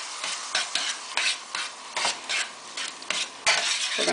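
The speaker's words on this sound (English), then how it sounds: "That is what you want to hear, all that sizzling." Italian sausage sizzles steadily in a hot pan while a utensil stirs and scrapes, giving rhythmic bursts of scraping over the constant frying hiss.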